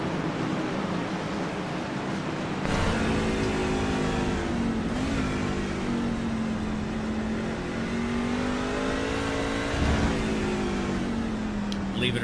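Onboard engine of the WWEX Racing number 10 race truck driven by Mark Schrader in a Stars & Stripes Truck Series race at Mid-Ohio, a steady loud drone rising and falling through gear changes, with commentary talking over it throughout.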